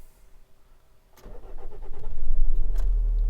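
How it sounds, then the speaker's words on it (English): A 2006 Nissan X-Trail T30 dCi diesel with a long-crank and high-idle fault cranks with rapid rhythmic chugging, then catches and settles into a loud, steady close-up running rumble. "we'll crank her over."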